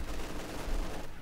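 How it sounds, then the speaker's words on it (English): Sustained machine gun fire from the video game Company of Heroes 2, a dense steady crackle of rapid shots filling the whole moment with no voices. "is being under fire by the other machine gun that the yellow player has"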